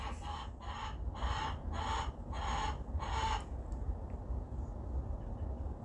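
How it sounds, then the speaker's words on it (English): A rapid series of about six sharp, squawking bursts, like a chicken clucking loudly nearby, then a low rumbling background continues alone. "these chickens are really going crazy right now."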